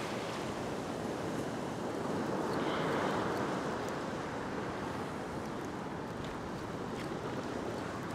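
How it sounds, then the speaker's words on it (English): Ocean waves surging against coastal rocks after a big swell, a continuous loud wash of surf that swells to a peak and slowly recedes, with wind buffeting close by. "Just got to watch these waves on my right-hand side."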